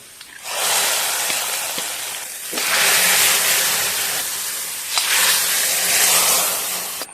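Fried shallots, dried red chilies and curry leaves in hot oil poured into a mango, cucumber and lentil curry, producing three loud bursts of hissing sizzle, each swelling and then easing, close up.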